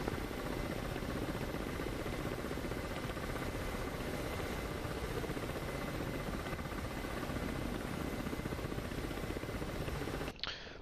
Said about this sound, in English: Look at this beautiful helicopter.